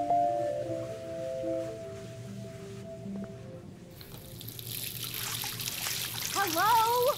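Running water in Life is Strange, a bathroom tap or shower starting up with a steady hiss that swells into a bright rushing flow, with a soft musical tone at the start.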